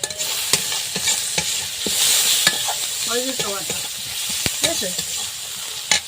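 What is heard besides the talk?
stirring banana flower with prawns, salt and turmeric in pan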